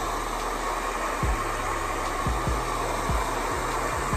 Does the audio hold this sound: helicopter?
no